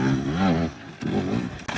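A motorcycle on an adventure ride roars loudly up close, its engine note rising and falling in pitch and then surging again after a brief dip, alone with no talk.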